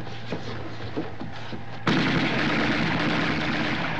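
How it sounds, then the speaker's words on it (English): Machine gun fire from a classic Laurel and Hardy war comedy starts with scattered single shots and short pops, then erupts into a loud, sustained, dense barrage of rapid gunfire for the last half, with no talking. "The enemy's firing on us. I can't hear you. Machine guns!"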